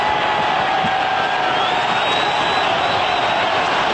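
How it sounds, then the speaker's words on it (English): A football stadium crowd at an Australia v Uruguay World Cup qualifier roars steadily after Australia's goal, a dense, unbroken wash of cheering heard from a distance with no clear talk over it. "and listen to the crowd"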